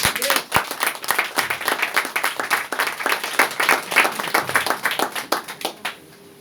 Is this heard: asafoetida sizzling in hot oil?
no